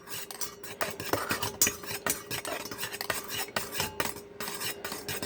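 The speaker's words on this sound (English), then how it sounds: "So let's just start stirring it." Melted wax around 190 degrees being stirred in a pot to cool it for homemade wax melts, with continuous close metallic scraping and clinking of a utensil against the container at an uneven rhythm, no voices.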